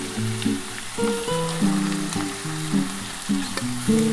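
Pumpkin leaf stems and vegetables sizzle steadily in hot fish oil in a frying pan with garlic and dried and green chillies, a continuous close frying hiss under soft background music.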